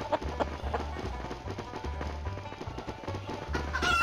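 Chickens in the mobile game Stickman Party, a rapid string of clucks and pattering steps in a steady looping rhythm, fairly faint and close, under quiet game music.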